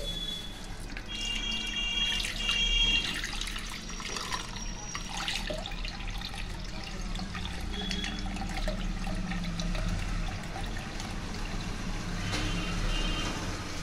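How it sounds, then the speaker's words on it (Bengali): Milk made from powdered milk pours and trickles through a strainer, a steady close wash of liquid with faint drips and small clinks, no speech. "প্রথমে আমি দুধটা ছেঁকে নিচ্ছি।"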